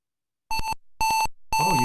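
A buzzer from a ninth-grade engineering class simulation sounds three times after a moment of silence, each tone loud, electronic and beeping, with short gaps between the pulses.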